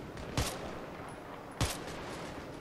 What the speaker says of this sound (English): these Jeeps are still shooting at something